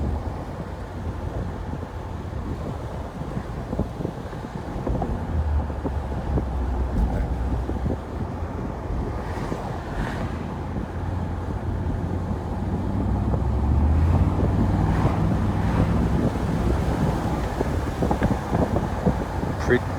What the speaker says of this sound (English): Pretty breezy here.